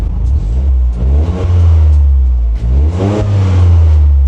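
Engine of a stock GR Corolla or WRX sports compact car revving hard twice, loud and close, rising and falling with a deep throaty rumble.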